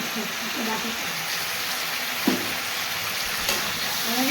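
Potatoes fry in a pan with dried red chillies and ground chilli, cumin and coriander, giving a steady, close sizzling hiss throughout with a couple of faint clinks of stirring.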